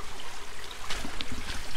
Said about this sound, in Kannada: ಮಳೆ ಬಂದಿರೋದ್ರಿಂದ ನೀರು ಹರಿತಾ ಇರೋದು.